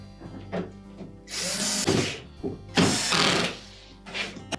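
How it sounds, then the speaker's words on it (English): Power screwdriver driving screws into a plastic part of a Frigidaire dishwasher during a lower spray arm replacement, in several short whirring bursts with brief pauses between them, close and fairly loud, with no talk. "Be sure not to over tighten these screws, because they're just going into plastic."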